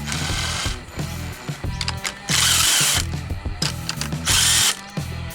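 Power drill spinning out the handlebar bolts on a Suzuki DR 650 motorcycle, loud close whirring bursts that start and stop repeatedly with ratcheting mechanical chatter, with no voices.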